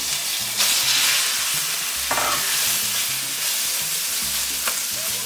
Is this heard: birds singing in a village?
no